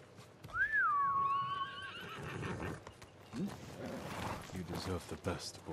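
A horse whinnies in the Ghost of Tsushima video game, a single rising-then-falling neigh up front, followed by softer hoof and ambient game noise with a person speaking over it.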